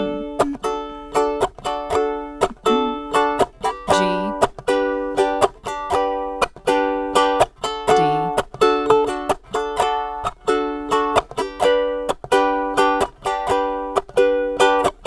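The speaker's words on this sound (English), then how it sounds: "So if I play the same thing with the island strum" A ukulele strummed in a steady, bouncy island rhythm, bright chords repeating evenly with crisp down-up strokes, close and loud with no voices.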